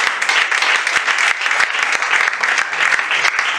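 Church congregation bursting into sustained applause, dense continuous clapping filling the room with a few scattered voices mixed in.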